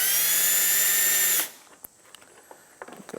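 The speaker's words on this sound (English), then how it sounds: "And then we're going to drill our other hole right here." A power drill whines loudly and steadily for about a second and a half while boring a hole into the metal frame of a 1997-2003 Ford F-150 pickup truck, then cuts off. A few faint clicks and handling noises follow.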